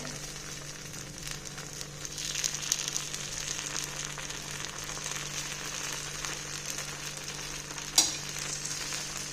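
Spicy white sorghum paniyaram fry in a pan with a steady, close sizzle and gentle crackling, broken by a single sharp clink near the end, with no voices.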